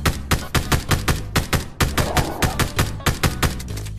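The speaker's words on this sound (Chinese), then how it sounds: "前面有枪声，有没有机会搞事情？" Rapid gunfire in a shooting video game: a loud, even burst of automatic shots, about five per second, continuing for four seconds with a brief break midway.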